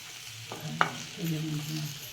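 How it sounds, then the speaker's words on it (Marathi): Sweet potato slices are sautéed and stirred in a pan, with a spoon scraping and clacking against the metal over a soft, close sizzle. "छान असं परतून घ्यायचं छान असं मिक्स करून घ्यायचं आहे"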